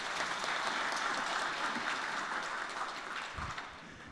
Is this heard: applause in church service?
yes